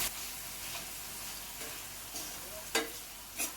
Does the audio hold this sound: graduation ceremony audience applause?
no